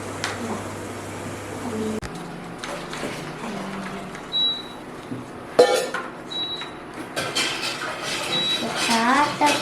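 Dishes being stacked and arranged in a home kitchen, with scattered clinks and clatters of plates and cutlery over a low hum, while people talk nearby.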